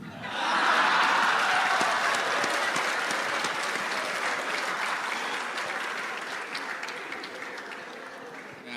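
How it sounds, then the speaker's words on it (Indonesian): Loud, sustained applause from a large lecture audience at an Indonesian university talk, swelling at the start and slowly tapering over several seconds, with a few voices mixed in. "Ya, udah ada tepuk tangan"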